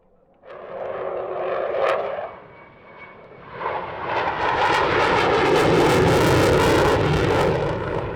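A jet fighter powered by Saturn AL-31 engines performs at an airshow, its loud engine roar swelling from a rumble into a sustained, intense blast that stays near and powerful to the end.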